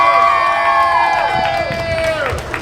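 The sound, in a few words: crowd cheering and applauding young people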